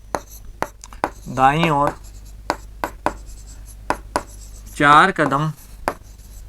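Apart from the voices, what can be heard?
writing during a maths lesson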